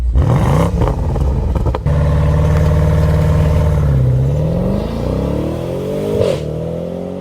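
A BMW M550i in sport mode revs hard and close, its engine note climbing and falling in a loud, continuous roar with a brief sharp crackle near the start; no one speaks.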